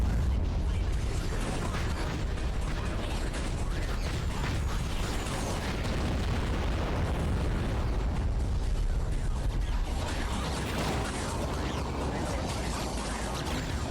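Torpedo explosions in the AquaNox underwater game, dense rumbling blasts and mechanical churning that stay loud and continuous throughout, with no clear pauses.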